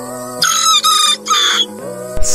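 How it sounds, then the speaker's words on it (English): A Serama rooster crows once up close, a multi-part harmonic crow in several sustained pulses, followed by a short clatter at the end. "Even the Serama rooster's crow is somewhat softer than"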